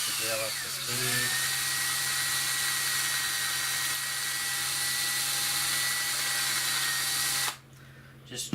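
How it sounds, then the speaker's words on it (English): A power drill whines steadily at high speed for several seconds after a brief spin-up, then cuts off abruptly. "Put the drill up to speed."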